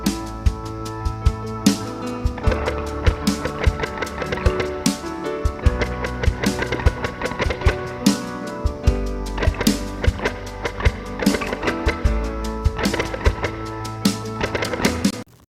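Percussive guitar rhythms with no melody, muted strums and chops in a steady, varied pattern with sharp attacks throughout, loud and close, no voices.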